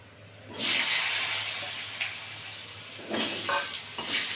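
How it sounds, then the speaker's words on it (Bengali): Potatoes are dropped into hot oil with cumin and bay leaf, giving a sudden loud sizzle that hisses steadily, with a few stirring clatters and no talking, while cooking for an aar fish curry. "এবার আলুগুলো দেবো আলুগুলো ভালো করে লাল করে ভেজে নেবো"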